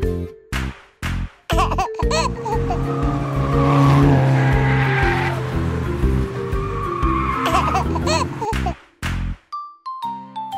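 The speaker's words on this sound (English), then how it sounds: "Race car." Cartoon race car sound effect: a long screeching tire skid with revving engine tones, loud and close, framed by bright jingling chimes and dings at the start and end, with no talk.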